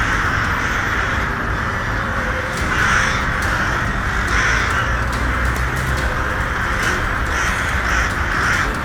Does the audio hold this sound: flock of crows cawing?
yes